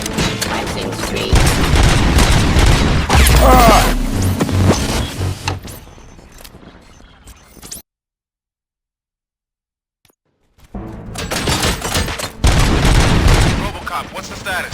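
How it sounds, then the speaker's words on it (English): Explosive gunfire erupts in a dense, loud burst of booms and shots, fades to near silence for a few seconds, then returns with another heavy barrage of loud blasts. "Gunshots? What's going on?"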